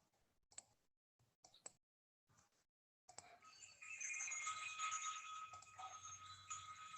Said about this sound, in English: That's the sound of the Tibetan Buddhist bells.